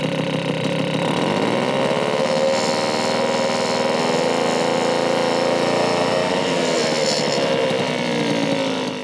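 Puch Maxi S moped engine idling, then revved with the throttle, a steady close two-stroke buzz whose pitch rises as it is opened up, with no talking.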